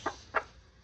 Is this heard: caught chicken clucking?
yes